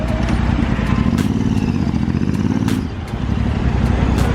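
A motorcycle, a Royal Enfield, rumbles close by on a test ride with a steady, loud engine note and a brief dip near the end, with no talking.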